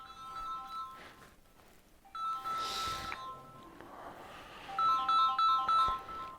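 A phone's electronic ringtone repeats in steady bursts of bright, tonal chimes, going quiet in between, with faint background noise and no clear speech.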